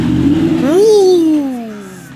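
An Audi R8's exhaust revs once close by, a throaty tone climbing quickly and then sliding back down as the engine settles, heard briefly and loud.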